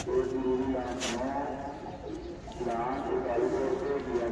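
Soft, low pigeon coos repeat in gentle rolling phrases, fairly close, over a murmur of background noise.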